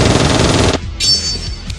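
Cartoon gunfire in an animated episode: a loud dense burst of rapid machine-gun shots that cuts off abruptly, followed by brief high ringing and whooshing effects.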